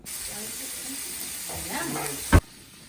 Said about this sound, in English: we got our bacon sauteing on the oven